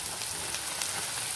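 Steady, dense crackling sizzle of chopped ridge gourd frying in a hot pan, continuous and fairly close, with no talking.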